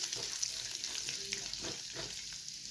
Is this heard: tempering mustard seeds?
yes